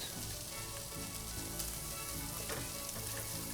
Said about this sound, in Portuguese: agora a gente vai deixar ele literalmente fritando